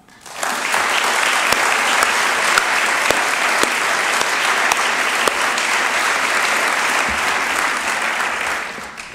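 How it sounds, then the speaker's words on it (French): An audience at a recognition ceremony applauds the authors of written texts with steady, dense clapping that holds for about nine seconds before tapering off. "Nous vous demandons d'applaudir ces auteurs."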